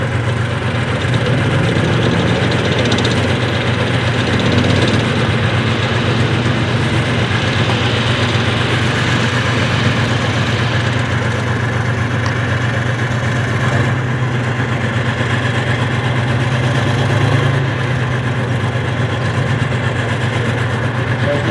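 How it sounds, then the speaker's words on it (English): Modern British Army armoured fighting vehicles at Tankfest 2024 idle and rumble continuously, a loud, steady low-frequency diesel drone with no pauses and no talk. "We're now going to see these armoured fighting vehicles engage the enemy vehicles they can counter to their front."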